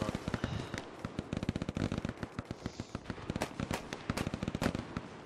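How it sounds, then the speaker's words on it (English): Rapid crackling gunfire from a World War II battle at Utah Beach in Hell Let Loose pops in dense, uneven bursts, fairly faint and somewhat distant. "They're shooting at something."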